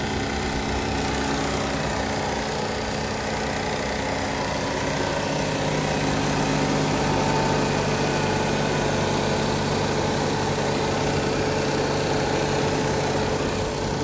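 A 2013 Nissan Sentra with a bent front fender and a damaged bumper idles steadily and evenly, a close and constant engine hum with no talking over it.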